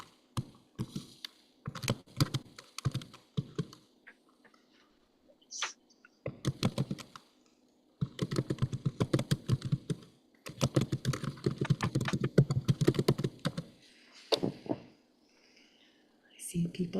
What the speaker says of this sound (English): I see people typing